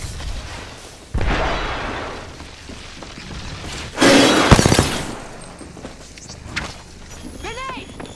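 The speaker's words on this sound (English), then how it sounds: "Fire an arc star." An arc star grenade in a battle royale shooter bursts with a sharp crackling electric blast midway, set among gunfire thumps and a rising shield-recharge whine, close and loud.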